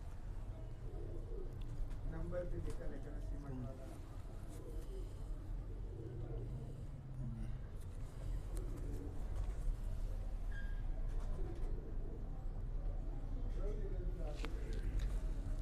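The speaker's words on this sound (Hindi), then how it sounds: "high flyer pigeon union channel के ऊपर आसिम भाई का एक अदद और ख़ूबसूरत जोड़ा" A pair of high flyer pigeons in a breeding setup coos softly with repeated low throaty calls, partly under a voice and steady background noise.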